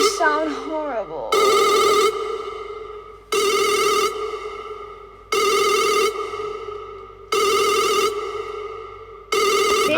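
A classic phone ringtone sounds loudly in repeated bursts, about five rings at steady one-second intervals, each a bright ringing tone followed by a fading tail, with a person briefly talking at the very start.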